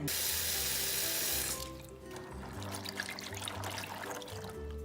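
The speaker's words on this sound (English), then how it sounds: "So Courtney is going to swish them around, and then we're going to drain them." Bean sprouts are swished in water in a kitchen sink: a loud rush of running tap water cuts off, followed by gentle sloshing and trickling close by.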